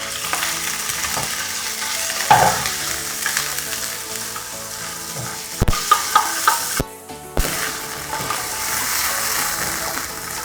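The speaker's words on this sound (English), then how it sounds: "We're going to start off with just stir frying our chicken breast." Chicken breast sizzles and fries steadily in a hot pan, with a few sharp clicks and scrapes of a utensil stirring partway through.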